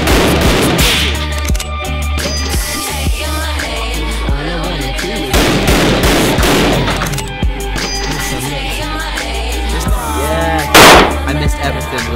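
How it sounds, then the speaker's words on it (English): Shots from rifles, Glock pistols and shotguns at an outdoor shooting range, sharp reports spaced irregularly over a steady background hum, with one especially loud blast near the end. "We're shooting rifles, Glocks, shotguns."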